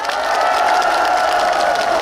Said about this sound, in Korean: 다 같이 내년, 내년에도 더 멋진 그 세우저 축제 기다리시면서 박수 한번 해보시죠